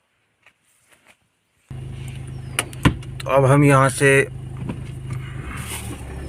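A car door opens and shuts, then a vehicle moves slowly along an unpaved dirt road through a village in Madhya Pradesh in the evening, with steady low rumble, window motor whirs and someone talking over it.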